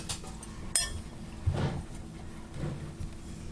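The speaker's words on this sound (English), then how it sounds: "I'm going to go ahead and whisk those together." A whisk clinks against a bowl, mixing flour, baking soda, baking powder, salt and sugar, with a few sharp metallic taps and soft scraping strokes, close and moderately quiet.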